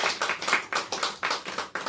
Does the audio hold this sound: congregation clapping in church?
yes